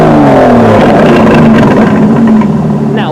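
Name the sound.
Aston Martin DB11 exhaust note in Sport Plus mode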